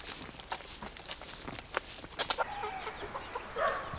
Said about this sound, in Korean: 야산에 닭 200마리를 풀어놓고 키우는 이곳은